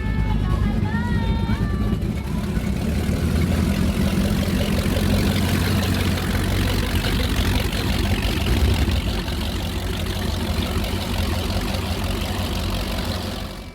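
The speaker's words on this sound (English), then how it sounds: "DCB cat with a pair of big Mercury Racing 700s." Twin Mercury Racing 700 engines on a DCB catamaran racing powerboat burble and rumble at idle, a deep, steady, loud drone with faint voices talking over it.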